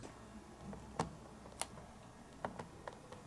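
Someone enters a code on a Freebox alarm keypad: a handful of faint, sharp button clicks at uneven intervals over a quiet room background.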